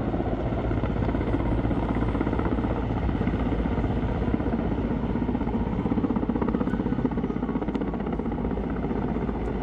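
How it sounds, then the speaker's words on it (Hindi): A helicopter carrying lake water from Bhimtal to fight a hill fire makes a loud, steady rotor thump and engine roar that stays constant throughout, with no talking. "तो उसको बुझाने के लिए ये हेलीकॉप्टर पानी लेके जा रहा है झील से"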